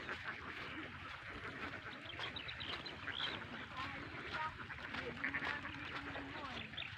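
Ducks on a farm quack here and there, fairly faint, beneath a constant low rumble and soft voices talking nearby.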